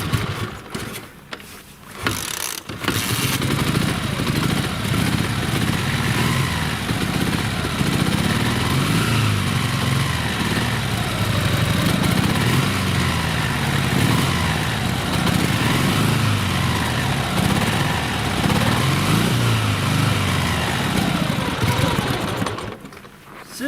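A Dnepr sidecar motorcycle engine runs in winter with only one cylinder firing, a loud, uneven, lumpy chugging held close and steady for most of the stretch after a brief stumbling start, then cutting out near the end.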